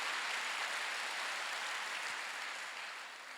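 A church congregation claps during a Wednesday worship service: steady, dense applause from many hands that holds evenly and then tapers off near the end, with no talking over it.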